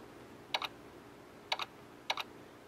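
Key clicks from a classic-style keyboard in the iDos DOS emulator on an iPhone or iPad come as three separate quick double taps, crisp and close against a quiet background.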